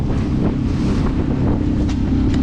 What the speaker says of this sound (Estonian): siis võib rahulikult selle väikse mootoriga siin sõita